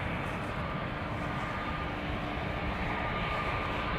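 An Airbus A321neo jet departing Amsterdam Schiphol Airport, a steady, loud broadband engine roar held without break throughout, with no voices.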